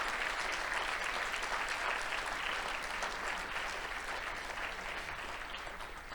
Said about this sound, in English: one round of applause to the honorable mention winners of the People's Choice Demo